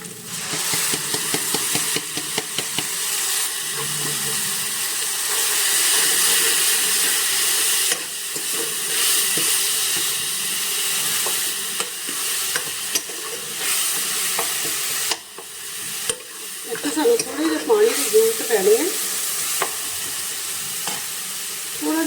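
Tomato puree with dried coriander sizzles and spits steadily in a hot tempering pan, with scraping stirs and bubbling bursts rising and falling, close by and with no talking.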